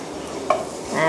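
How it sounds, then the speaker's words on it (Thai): Chopped garlic stirred around a hot pan, with a soft sizzle and a brief scrape of the utensil partway through. "ผัดให้หอมแป๊บนึง"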